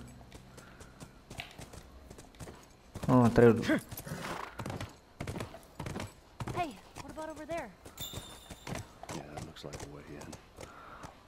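Hooves clip-clop at a quick gallop rhythm from a horse in the game The Last of Us, with someone talking over it throughout.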